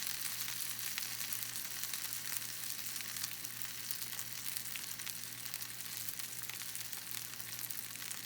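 Steak searing in a hot pan, flipped every few seconds, giving a continuous bright sizzle with crackling spits at an even, fairly quiet level and no voices.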